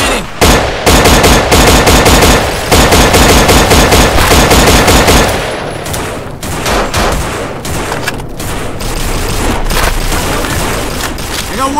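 Gunfire from a Beretta pistol in the Half-Life zombie mod No More Room In Hell, loud rapid repeated shots in dense bursts, with a brief lull and then more scattered firing and game noise.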